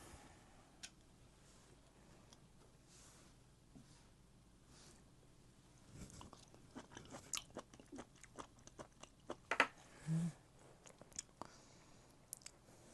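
Someone chews sea squirt and other seafood close to the mic, starting quiet and then a run of soft wet bites, smacks and crunchy clicks in an irregular rhythm, with no talking.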